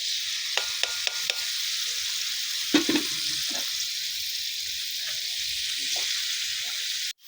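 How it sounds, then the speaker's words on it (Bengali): Chopped chilies, onion and garlic sizzle in hot oil in a pan, a steady bright frying hiss with a few stirring scrapes and clinks, close and continuous, no talking. "এখন তেল দিয়ে দিলাম তেল দেওয়ার পরে যে মরিচ পেঁয়াজ মরিচ রসুন কেটে রাখছিলাম আমি এই যে সেগুলো এখন দিয়ে দিলাম"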